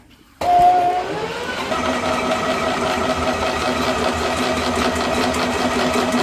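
A drain snake machine starts up after a moment of quiet and runs forward slowly, a steady mid-pitched motor drone with a faint rhythmic rattle throughout.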